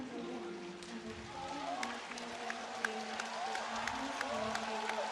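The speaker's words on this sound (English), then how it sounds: "You can hear the crowd cheering very loudly for their hometown athlete." A crowd at the 2019 World Wushu Championships in Shanghai applauds and cheers for a home athlete, a fairly distant wash of clapping and voices with sharper claps popping through.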